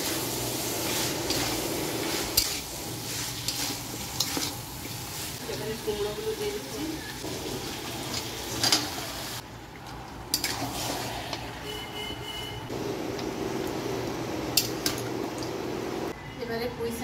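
Rohu fish heads frying in spiced oil with ground coriander and cumin, a steady close sizzle and spatter running throughout, with occasional clinks of a utensil against the pan and a voice talking over it.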